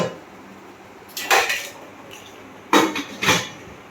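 Someone handles the metal pot of a newly unboxed rice cooker at home, making two separate pairs of clanking, clattering knocks against a quiet background.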